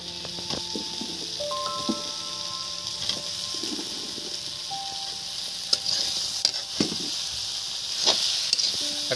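Cut potatoes frying with dried fish and onion greens in a pan, producing a steady close hiss and sizzle with occasional stirring clicks and scrapes throughout.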